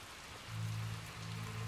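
Rain falling in the video game Little Nightmares 2, a soft steady patter with a low droning hum joining partway through, fairly quiet and without speech.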